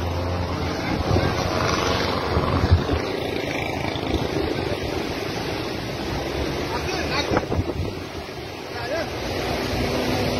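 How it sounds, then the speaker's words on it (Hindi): Indus River floodwater rushes past Jamshoro in Pakistan in a loud, continuous roar with gusts of wind buffeting the microphone throughout. "ये देखें पानी की ताकत, ये 6 लाख का रेला इस वक्त जामशोरों से गुजर रहा है"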